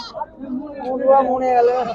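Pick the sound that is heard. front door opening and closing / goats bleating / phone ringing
goats bleating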